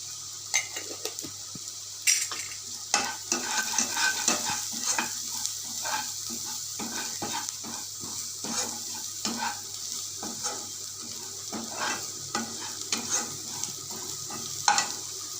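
Radish balls sauté with turmeric in a pan under a soft background sizzle, broken by frequent scraping and clinking strokes of a spoon against the pan that come in an irregular rhythm.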